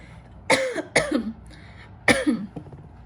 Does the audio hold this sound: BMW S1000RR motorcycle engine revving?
no